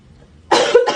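A single person coughs sharply, one harsh burst followed by a second shorter one, close and loud after a near-silent lead-in.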